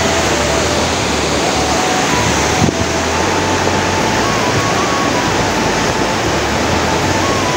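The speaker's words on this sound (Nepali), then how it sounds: "अब अगाडि गएर देखाउँछु तपाईँहरूलाई यहाँ कत्रो खोला आएको छ भनेर" A swollen river in flood rushes near a suspension bridge, a loud, dense and constant roar of water that fills the whole stretch without a break.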